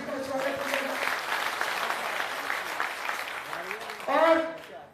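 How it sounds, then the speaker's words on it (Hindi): An audience at a Bihar community gathering claps for an arriving guest, a sustained dense round of applause that swells near the end, while a voice speaks over it. "जोरदार तालियों से स्वागत किया"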